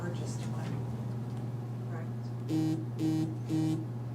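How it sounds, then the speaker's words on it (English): A phone buzzes three times in quick, evenly spaced bursts during a county board meeting. The buzzes are fairly quiet and sit over a constant low electrical hum in the room. "That's my buzzer for my phone."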